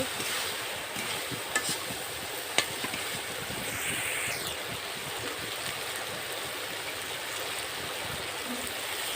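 Broth pours into a pan of fried potatoes and onions for a silver carp fish curry, a steady rushing, bubbling wash of liquid that runs continuously at moderate level, with a couple of faint clicks.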